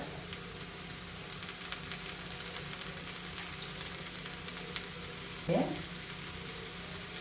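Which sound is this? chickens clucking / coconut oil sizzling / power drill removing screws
coconut oil sizzling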